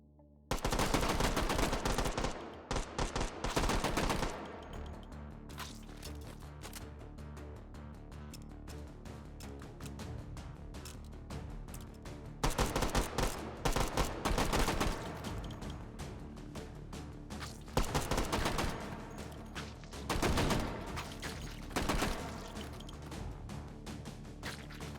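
Grease gun submachine gun firing in the VR shooter H3VR, loud rapid automatic bursts in several separate strings with short pauses between them, close and dominant throughout with no talking.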